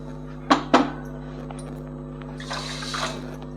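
Two sharp clicks come first, then a soft, brief splash as water is poured onto sugar in a pan to make syrup for kala jamun. A low steady hum runs underneath.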